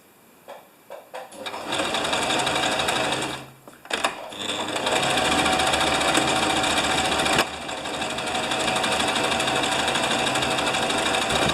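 A home sewing machine stitching fabric on a DIY project hums with a loud, continuous rapid whir, stopping briefly twice before running steadily again, close up and without talking.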